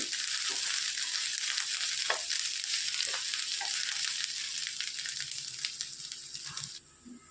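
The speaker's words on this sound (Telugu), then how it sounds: "అల్లం వెల్లుల్లి పేస్ట్ పచ్చి వాసన పోయేంత వరకు వేయించుకోవాలి ఈ ఉల్లిపాయలతో వేయించుకుంటండి" Ginger garlic paste fries with onions in a pan for a dhaba-style egg masala curry, a steady close sizzle with occasional sharper crackles and stirring scrapes, running alone without talk.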